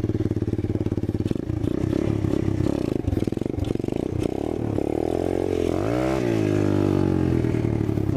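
A 2019 Apollo 125cc motorcycle engine held at high revs during a wheelie, a loud steady buzzing drone with some clattering, then a swooping rise and fall in pitch as the throttle is worked, close and continuous.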